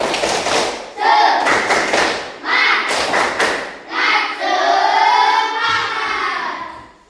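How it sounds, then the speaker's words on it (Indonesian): A group in an Indonesian classroom claps in a quick, patterned rhythm, with bursts of hand claps alternating with voices chanting along in Indonesian, loud and close. "Tepuk semangat."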